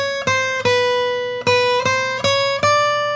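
Single guitar notes from a left-hand exercise, each picked with a downstroke, ring out one after another in a slow, fairly even sequence of about seven clear, close plucks with short decays and no talking.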